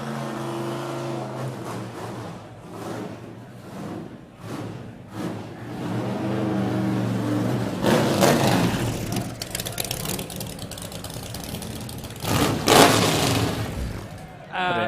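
A 1972 Chevrolet Corvette L88 race car that ran the Le Mans 24 Hours, its engine idling with a deep burble and then revving in loud bursts, heard over a crowd and someone talking.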